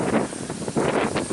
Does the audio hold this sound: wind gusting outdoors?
yes